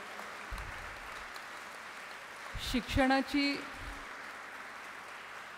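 An audience at an education event claps together in a short burst of applause, building and fading over a couple of seconds, with a speaker's voice briefly heard at the end.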